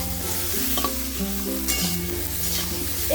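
Okra with turmeric fries in a pan while being stirred, a steady close sizzle with a low background hum and occasional light scraping, no voices.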